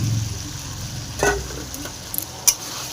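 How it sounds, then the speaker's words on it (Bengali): Cauliflower and boiled potato with spices stirred in a pan: a faint sizzle underneath, a scraping stir in the middle and a few sharp clicks of the spoon against the pan near the end. "আলু ফুলকপিটাকে মশলাটাকে একসাথে মিক্স করে নিতে হবে।"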